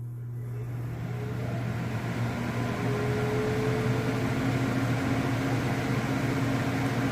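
An ION hooded hair dryer runs on its cool setting, a steady, fairly quiet whooshing airflow with a low motor hum underneath, unbroken throughout.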